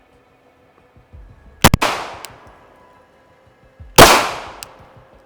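Two sharp gunshots ring out on a shooting range, about two seconds apart, each a loud crack with a short ringing decay and nothing else around them.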